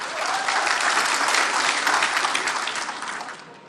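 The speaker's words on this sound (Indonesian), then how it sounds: "Tepuk tangan meriah." Audience at a public gubernatorial debate in a hotel convention hall applauding loudly and steadily throughout, fading slightly near the end.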